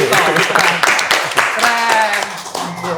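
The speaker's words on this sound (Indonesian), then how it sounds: "Dan tepuk tangan dulu sih. Tepuk tangan." Clapping by a small group during a podcast recording, under loud overlapping talk and voices throughout.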